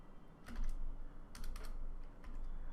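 Computer keyboard typing while writing CSS code, short bursts of quick close keystrokes in a quiet room, with brief pauses between clusters.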